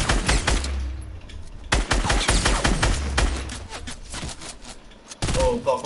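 Rapid gunfire in a Fortnite match crackles in dense bursts of close, loud shots with short gaps between volleys, and a player speaks over it.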